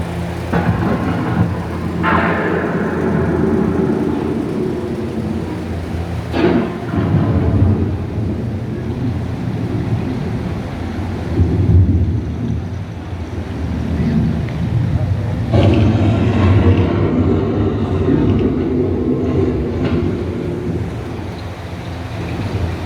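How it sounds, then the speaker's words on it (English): An approaching thunderstorm rumbles with low rolling thunder over a steady wash of rain and wind, with a couple of sharper cracks standing out amid the continuous noise. "The approaching storm may seem violent and destructive to us, but to nature, it's a new beginning in the cycle of life."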